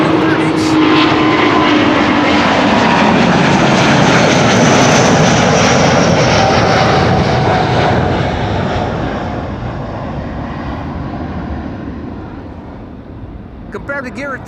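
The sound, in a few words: Airbus A330neo airliner taking off at Amsterdam Schiphol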